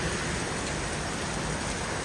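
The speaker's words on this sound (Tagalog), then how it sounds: "Yan yung ulan na may hangin." Steady, dense typhoon rain hissing evenly, a constant windy wash of noise with no pauses.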